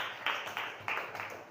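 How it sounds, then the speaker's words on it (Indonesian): A school classroom breaks into faint, loose applause, a handful of irregular claps repeating in quick bursts, quiet and somewhat distant. "Tepuk tangan untuk kita semua."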